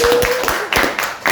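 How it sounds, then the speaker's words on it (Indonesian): Applause in a podcast studio, a small group clapping in a quick uneven rhythm, close and fairly loud, with a voice briefly audible underneath at the start. "Tepuk tangan dulu."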